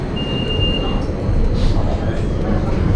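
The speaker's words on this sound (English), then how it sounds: "I think I see my tram actually right in front of me." A tram in Milan rumbles close by, with a steady low roar of wheels on rail and a brief thin squeal, loud and continuous.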